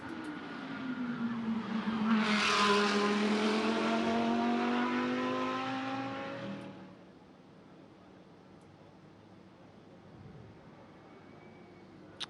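GT3 race cars during qualifying at the Macau Grand Prix street circuit: a loud engine roar rises and sweeps past over about six seconds, then fades to a faint distant hum of the track.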